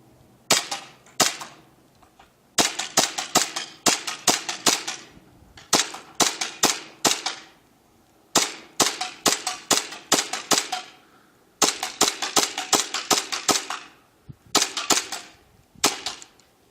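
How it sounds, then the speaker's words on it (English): Airsoft 1911 hi-capa pistol firing .28 green gas BBs one-handed outdoors, sharp loud pops in quick bursts of three to five shots separated by short pauses, with no talking. "now we'll be stepping out back to give this a basic accuracy test"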